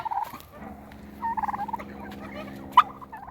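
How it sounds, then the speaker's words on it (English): Turkeys gobble loudly and close by in a homestead garden, with several rolling gobbles overlapping across a few seconds and a sharp call near the end. "You're going to the turkeys now."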